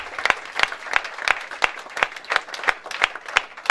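Applause at an awards ceremony for Gabonese media held in Paris: a room of people clapping steadily, dense and moderately close, with no voices over it.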